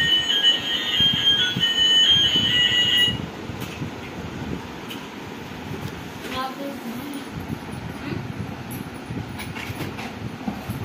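A toy train with lights and sounds plays a bright, steady electronic tone for about three seconds, then goes quiet, leaving soft clatter and indistinct background talk.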